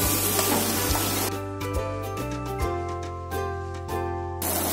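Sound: onion frying in oil for Kerala chicken curry

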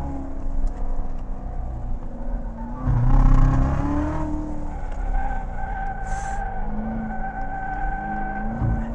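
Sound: Corvette C7 Z06 engine accelerating on track in third gear

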